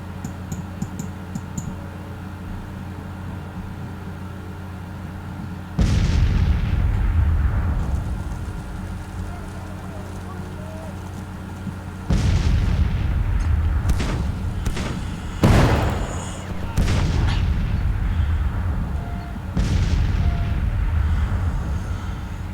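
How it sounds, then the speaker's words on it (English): Artillery fires in the Grand Tactician Civil War strategy game. Several heavy booms sound at intervals over a steady low ambient bed, each one loud with a rumbling tail. "as long as the artillery can keep them pinned down"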